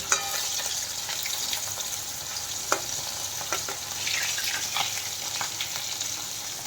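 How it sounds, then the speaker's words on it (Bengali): Fish frying in oil in a home kitchen: a dense, even crackling sizzle close by, with scattered sharp pops and utensil scrapes, no talking over it. "মাছটা মোটামুটি ভাজা হয়ে গেছে"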